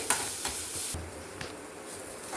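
Ground ginger and onion paste fries in groundnut oil with a soft, steady sizzle, broken by a few light stirring scrapes and taps.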